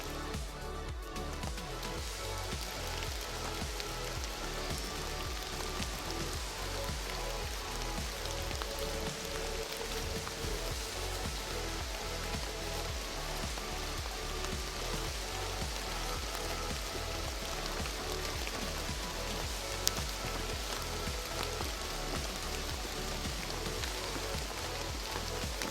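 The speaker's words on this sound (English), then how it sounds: "it's raining and it's just absolutely nasty out here" Steady, dense rain pours down on a hiking trail in the Smoky Mountains, a continuous broadband hiss of drops hitting the ground and foliage that stays even and loud throughout with no voices.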